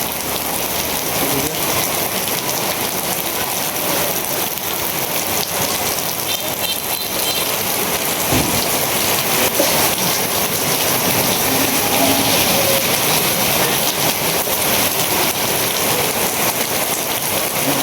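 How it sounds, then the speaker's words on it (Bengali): Heavy rain pours steadily throughout, a dense continuous hiss of drops drumming on surfaces, with no break. "বিকালবেলা থেকে এই স্বস্তির বৃষ্টি শুরু হয়েছে আর কি"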